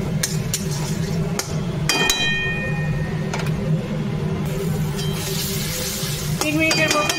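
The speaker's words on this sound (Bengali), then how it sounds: "তিন মিনিটের মতো মশলাটা কষিয়ে নিয়েছি" Masala spice paste sautéing in a pan with steady low sizzling, broken by spoon clinks and scrapes against the metal, and a brief tonal ring near the middle.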